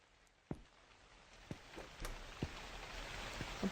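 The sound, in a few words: rain falling in video game The Convenience Store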